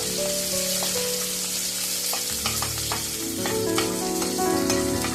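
Chopped onions frying in a pan for homemade chicken biryani, a steady close sizzle broken by repeated scraping stirs, with a low tonal hum running underneath.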